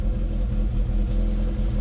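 The broken-down Rover 25 GTI holds a high, lumpy idle from over-fuelling, a loud, close, continuous engine rumble without speech.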